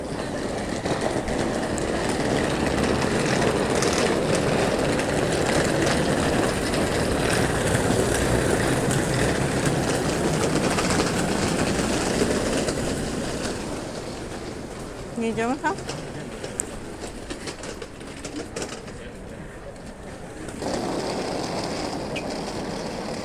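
A Ukrainian passenger train rumbles past nearby in Warsaw with a broad, steady roar of wheels and carriages, easing off partway through; a short squeal and faint voices follow.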